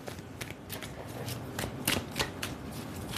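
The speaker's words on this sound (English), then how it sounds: "I'm just going to shuffle these live." Tarot cards being shuffled in quick, crisp bursts of riffling and slapping, close and fairly quiet, with no talking.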